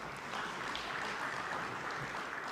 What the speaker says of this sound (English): very big round of applause